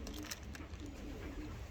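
A racing pigeon gives low, soft coos in a short repeated run, close by, with some faint rustling and background noise.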